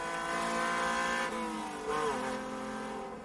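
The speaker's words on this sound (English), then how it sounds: "It's a wonderful noise the V6 engine is making as he comes up the hill" A V6 racing car engine howls past at high revs as it comes up a hill, its pitch rising and dipping as it shifts and climbs, loud and fairly close.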